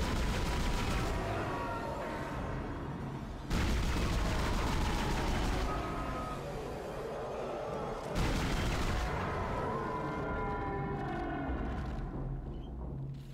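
Sci-fi horror game gunfire in Dead Space aimed at a creature: dense, booming blasts and rumbling impacts come in three heavy bursts, loud and close, with no talk.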